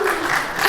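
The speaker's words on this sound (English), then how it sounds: "they're just clapping by themselves" A studio audience claps in a dense, steady wash of applause from many hands, loud and continuous with no single voice standing out.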